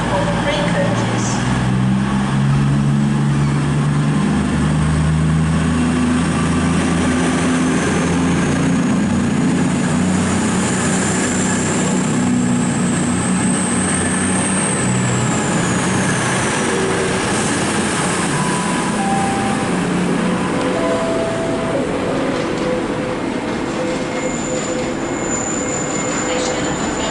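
A three-coach passenger train runs through Stockport station on the West Coast Main Line, a loud, sustained rumble of diesel engine and rolling wheels with squealing tones, heard close up throughout.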